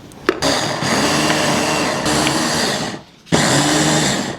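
An electric blender whirs steadily as it mixes filling for Iraqi dolma, loud and close, then cuts out for a moment before starting up again with no talking.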